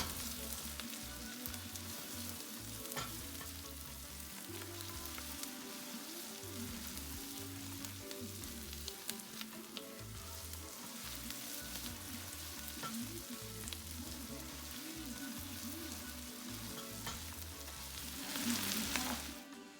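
Carrots fry and get stirred in a pan with onions, garlic and ginger, giving a steady close sizzle with scraping stir strokes throughout and no talking.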